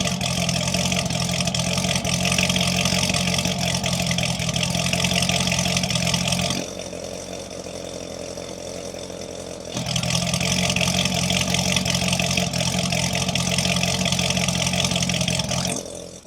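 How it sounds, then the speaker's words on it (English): A Chevrolet Corvette ZR1 engine in loud exhaust mode runs with a heavy, steady exhaust drone, drops to a quieter idle for about three seconds, then swells back to the same loud, sustained rumble. "if we turn on the car, you can hear it's really quiet. Well, if we press this button, now it's louder"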